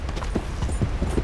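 Horse hooves clip-clop in the video game Red Dead Redemption 2, a quick uneven run of close, loud hoofbeats over a dense, noisy game background.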